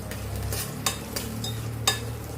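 Tempering of garlic and dried red chilli pieces frying in oil in a pan, a soft continuous sizzle broken by a few sharp clinks of a spoon stirring.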